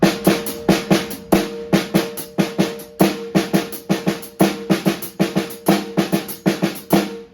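A brisk drum groove with sizzling open hi-hat hits and snare strokes, both hands together, repeating in a tight, steady pattern, close and fairly loud.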